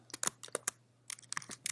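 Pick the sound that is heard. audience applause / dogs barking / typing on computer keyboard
typing on computer keyboard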